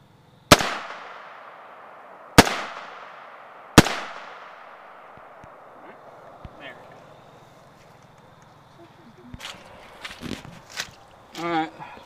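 Three loud, sharp 300 Blackout gunshots, 120 grain Remington full metal jacket rounds fired from a 10.5 inch barrel into a homemade bullet trap, spaced a second or two apart with decaying echoes, followed by faint shuffling and handling noises.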